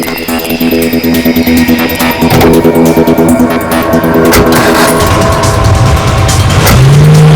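A car racing at speed during a police chase toward a junction, engine revving hard and rising in pitch, with tire noise and dense, loud action-scene sound throughout.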